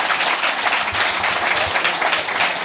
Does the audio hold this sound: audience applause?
yes